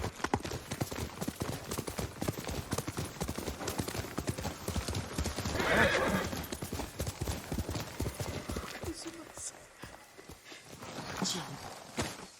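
Steady clip-clop of horse hooves at a brisk pace in the video game Ghost of Tsushima, close and continuous, with a brief whinny-like sound midway.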